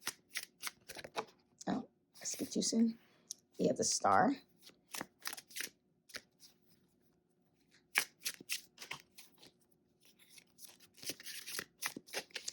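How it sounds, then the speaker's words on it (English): Tarot cards being shuffled by hand, crisp papery riffles and slides in short bursts, with a person talking between them. "nothing's coming out as I'm shuffling"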